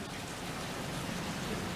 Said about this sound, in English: It is our first day of proper rain